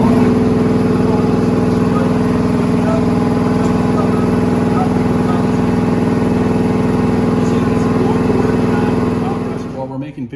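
An air compressor unit for filling SCBA bottles runs with a loud, steady mechanical drone and dense rattling hum close by, holding constant for about nine seconds before winding down at the end.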